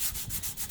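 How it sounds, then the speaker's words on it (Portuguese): Close scratchy sanding of a cement pot with 120-grit wall sandpaper, made in a few quick back-and-forth rubs with a gritty, even rasp and no voices. "a lixa 120 para parede, para massa corrida"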